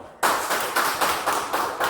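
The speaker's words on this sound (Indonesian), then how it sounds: "Tepuk tangan dulu." A school class in Indonesia claps hands together in a steady rhythmic pattern, loud, close bursts of clapping roughly every quarter second, starting abruptly after a brief quiet moment.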